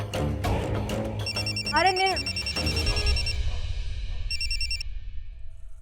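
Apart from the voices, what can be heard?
telephone ringing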